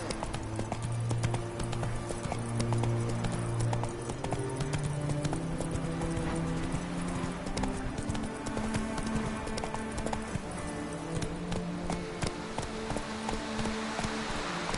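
Geralt's horse Roach gallops in The Witcher 3: Wild Hunt on PS4, with rapid, even clip-clop hoofbeats running close and steady over soft background music.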